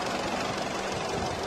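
A SEAT Cupra car engine idles up close, fitted with an aftermarket intake, giving a dense, steady rumbling churn at constant loudness with no voices over it.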